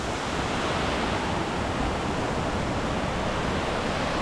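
A waterfall in Monteverde, Costa Rica pours steadily, a dense, constant roar of falling water with no other sounds.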